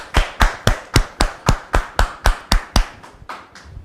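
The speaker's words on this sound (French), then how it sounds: "On la reçoit sous vos applaudissements." Studio audience welcoming a guest onto a French talk show with loud, steady rhythmic clapping, about a dozen evenly spaced sharp claps that fade slightly toward the end.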